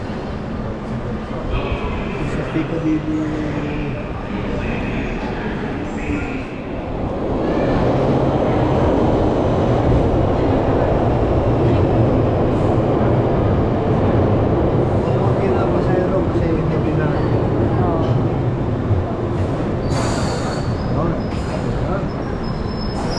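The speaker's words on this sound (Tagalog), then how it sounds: "we're waiting for the train" A London Underground train arriving at Hammersmith station, a broad rising rumble and rush that swells after a few seconds and stays loud, with brief high squeals near the end and people talking over it.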